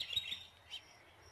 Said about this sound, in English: See the birds right there in the fence?